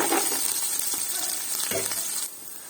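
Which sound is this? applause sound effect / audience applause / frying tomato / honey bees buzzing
frying tomato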